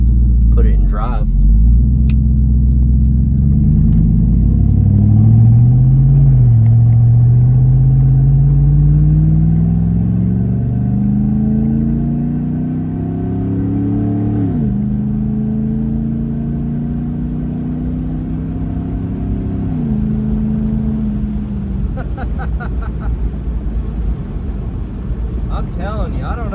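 A 2008 GMC Yukon Denali V8 with its muffler cut off, loud and close throughout, a deep uncorked exhaust drone rising and falling as it pulls away and shifts gears, with a brief voice near the start.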